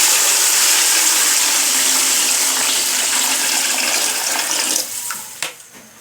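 Water gushes steadily and loudly into a cooking pot for matar pulao, a continuous pour that thins and stops with a few final splashes near the end.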